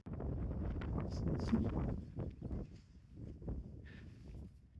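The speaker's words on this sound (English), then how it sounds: "it's so windy" Steady wind buffets the microphone on an open Montana site, a low rumbling roar with gusty swells throughout and no voices.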